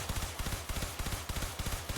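Rapid bursts from the Harpak weapon in the game Warframe, sharp low-heavy shots in quick rhythmic clusters with brief pauses between volleys, loud and close.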